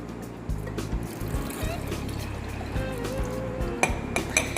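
Diluted hand sanitizer is poured into the reservoir of a homemade automatic dispenser, giving a steady close liquid trickle with low hum beneath and a few small clicks near the end.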